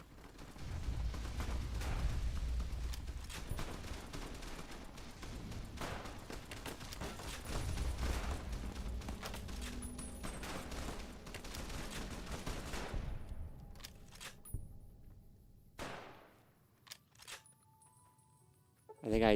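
Weapon fire from Fallout: New Vegas loaded with the wrong ammo type, firing without exploding: a dense run of loud, overlapping shots and booms that persists for most of the stretch before thinning into a few scattered bangs and quieter game sounds.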